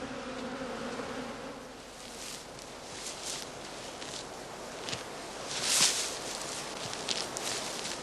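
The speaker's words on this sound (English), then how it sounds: "allow the bees unobstructed entry and exit during the day" Bees fly around the entrances of straw skep hives outdoors, making a steady, dense buzzing hum with faint rustling beneath it.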